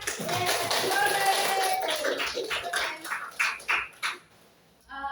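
Students in a high school classroom clap their hands together, a dense burst of applause that thins into a few scattered claps and fades out.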